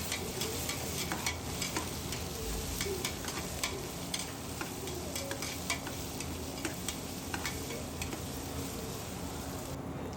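Ginger garlic paste is sautéed in a pan for pulav rice. A continuous frying hiss runs under frequent light spatula taps and scrapes, close and even, and no one speaks.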